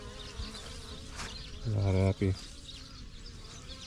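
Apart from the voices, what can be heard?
bees buzzing at almond orchard hives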